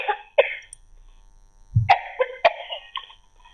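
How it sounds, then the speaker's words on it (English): A person coughs once, short and close, during a church-themed conversation about memes, set among brief vocal sounds and a little murmuring. "Sorry, I had to cough."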